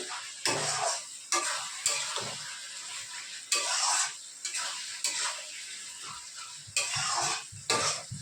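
Chicken skin curry frying in a pan, a spoon scraping and stirring in repeated bursts over a continuous oily sizzle, close and clear, with no talk.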